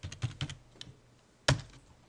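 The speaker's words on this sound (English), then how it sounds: "I'm going to type in the command purge" Several soft keystrokes on a computer keyboard, then a sharper, louder key press, quiet and close with no talk.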